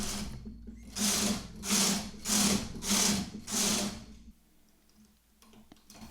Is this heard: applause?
no